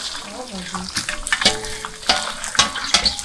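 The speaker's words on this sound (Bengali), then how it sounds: "এই হচ্ছে আলু ভাজা।" Potatoes fry in hot oil with a close, steady crackle and sizzle, broken by sharp bursts as they are stirred in the pan during home cooking for a baby shower feast.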